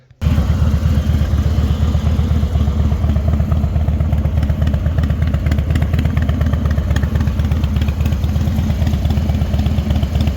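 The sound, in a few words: Harley motorcycle engine and exhaust, deeper sound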